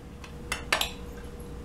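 A knife cuts through a slice of almond cranberry bundt cake topped with glaze, giving two brief soft scraping strokes close by in a quiet room.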